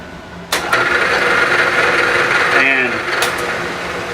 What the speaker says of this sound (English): running 1115 RPM on the Bridgeport here